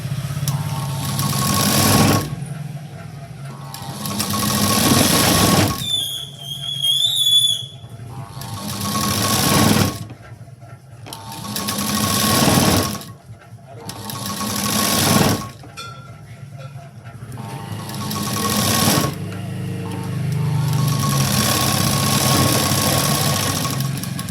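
A sewing machine stitches a blouse sleeve with its lining, running in several loud bursts of steady mechanical whirring separated by short pauses, with faint handling sounds between runs.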